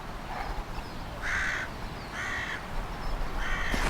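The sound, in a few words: crow cawing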